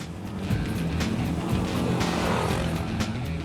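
An off-road vehicle adapted with hand controls drives along, its engine a steady, fairly loud rumbling drone that holds for the whole stretch with no voices.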